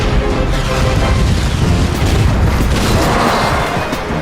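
A Tiger tank's cannon fires in a video game, a loud, continuous booming roar of heavy gunfire and rumble with no voices.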